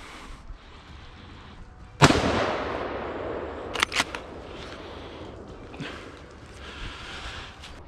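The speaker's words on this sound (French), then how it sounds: "Il tire sa balle et l'animal repart." Hunting rifle fired at a wild boar during a driven hunt in the woods, one sharp, loud shot that echoes and fades over several seconds, followed by faint rustling and clicks.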